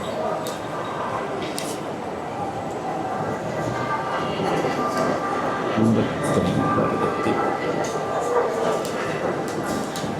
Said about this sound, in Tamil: நம்மளோட ட்ரெயின் வந்து கொண்டிருக்குது